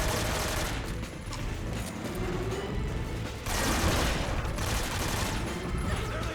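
Dense, sustained gunfire from a Metal Gear Solid 3 boss fight, likely an AK-47 firing continuously at a large enemy, with rapid bursts and crashing impacts filling the whole stretch at steady loudness.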